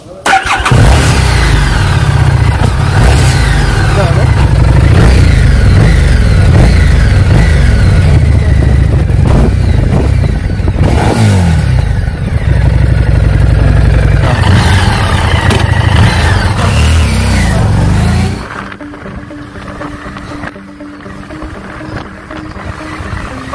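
A 2020 Harley-Davidson Street 750 BS VI motorcycle with a liquid-cooled parallel-twin engine, running loud and close with revs rising and falling for about eighteen seconds before it drops to a much quieter idle.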